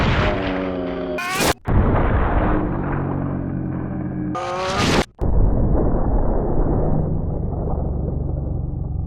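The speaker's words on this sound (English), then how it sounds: "And now let's see the ultimate explosive headshot for Resident Evil Outbreak, with Kevin doing a pot shot at close range against an easy mode zombie" Two loud gunshot blasts ring out in the Resident Evil Outbreak video game as a close-range shot bursts a zombie's head, each sharp boom followed by a harsh, echoing, ringing noise.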